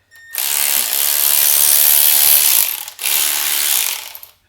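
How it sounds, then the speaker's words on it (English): A Snap-on or Milwaukee cordless ratchet spins at speed in a loud, close, steady mechanical whir with a buzzing motor tone, stopping briefly near the three-second mark before running again and winding down. "I can show you a little bit of the power difference between the two ratchets."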